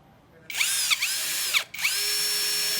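A MASARU MSR-CD204 cordless drill runs in drill mode, its high motor whine starting abruptly and holding steady, dipping briefly in pitch a few times and cutting out once before spinning back up, heard up close with no talk.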